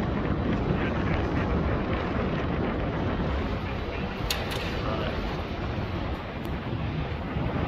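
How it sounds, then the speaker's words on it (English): A heavy wind gale buffets a high-rise building under construction at level 25 to 26, making a constant roaring rumble against the microphone that runs throughout, with faint speech beneath. "We had a bit of wind over here, so got a bit of gale."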